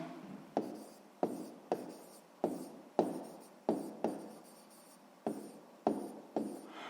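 A pen or chalk writes out a math answer by hand, producing a series of about ten sharp, close tapping strokes at an uneven rhythm, each followed by a short scratchy trail, with no speech.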